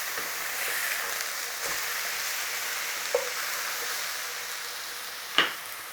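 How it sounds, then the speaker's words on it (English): A plain beef patty with sauce, no salt or pepper, searing in a hot pan for a copycat Big Mac, giving a steady soft sizzle with a couple of sharp pops and a faint scrape. "Let's sear up both sides."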